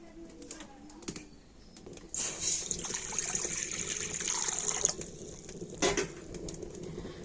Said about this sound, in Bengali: উনুনে একটা কড়া বসিয়ে দিচ্ছি আর কড়াতে আমি দিয়ে দেবো জল